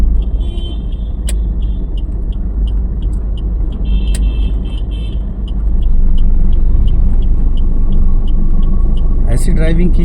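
Car cabin during a driving lesson, with steady low engine and road rumble throughout that rises slightly in level partway through, while an instructor talks over it.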